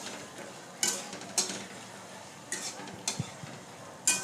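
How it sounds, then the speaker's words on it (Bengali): Fried chicken pieces are stirred into a boiling chilli sauce in a pan, with a steady bubbling sizzle broken by several clear scrapes and clinks from a spoon against the pan. "এবার আমি এতে চিকেনগুলো দিয়ে দেবো, যেটা ভেজে রেখেছিলাম। দেখো এবার এতে দিয়ে দিচ্ছি এটা।"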